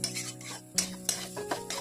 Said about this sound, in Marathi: जरा परतून घ्यायचं चांगलं